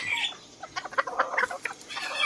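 White Tom-Tam bantam chickens in Khon Kaen clucking nearby in quick, uneven bursts of short calls, with no talking over them.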